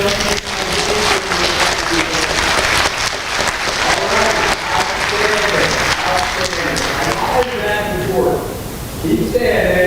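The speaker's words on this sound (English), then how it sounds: "Give yourselves a resounding round of applause." Audience applause at a high school awards ceremony, a loud dense wash of clapping with cheering voices mixed in that carries on for the whole stretch and thins slightly near the end.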